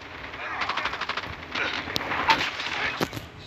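A sniper rifle fires in Call of Duty Mobile as sharp, loud shot cracks amid a rapid burst of other game gunfire, with several distinct reports near the end.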